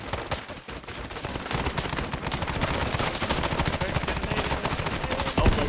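Arma 3 video game gunfire in a jungle fight: dense, rapid bursts of automatic weapons and overlapping shots crackle continuously at close range, with no talk.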